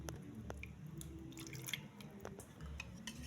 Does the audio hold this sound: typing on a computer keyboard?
no